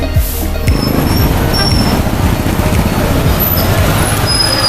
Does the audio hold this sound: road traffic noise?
yes